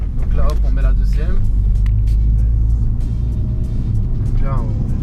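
A 350-horsepower car drives along in second gear, its engine a steady low rumble that carries loudly through the whole stretch, with a voice talking over it at times.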